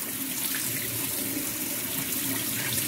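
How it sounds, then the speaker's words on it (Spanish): Cooked prawns are tipped into cold water in a kitchen, a steady, loud rush of running, splashing water across the full three seconds with no speech. "aquí lo echamos en agua fría"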